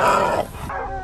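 Hunting dogs bark and growl at wild hogs, a burst of close, loud, rough barking with a snarling tail, heard without talk.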